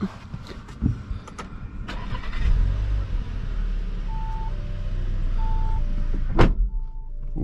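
A 2024 Audi Q3 45 TFSI starting up from inside the cabin: a click and short crank, then the engine catches with a deep rising rev and settles into a steady idle, with soft chimes sounding intermittently.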